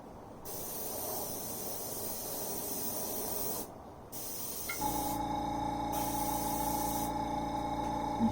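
Spray gun hissing steadily as paint is misted over a BC Rich Warlock guitar body, a near, continuous broadband spray broken by two short pauses, with a faint mechanical hum joining midway.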